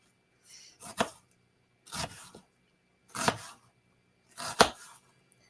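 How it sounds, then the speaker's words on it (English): A knife slicing through an onion, four distinct crisp cuts spaced about a second apart, close and clear against a quiet background. "I'm cutting this onion in a really weird way"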